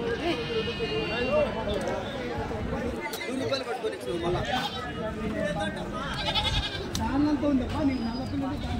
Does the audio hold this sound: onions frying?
no